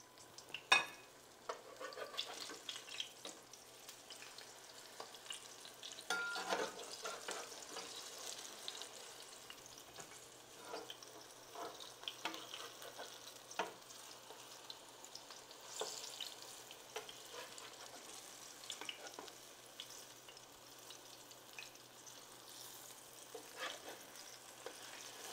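Banana fritters frying in a pan, a faint, steady crackling sizzle with soft scattered pops throughout, no talking.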